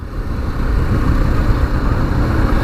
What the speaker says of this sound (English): it's also got a nice note to the engine as well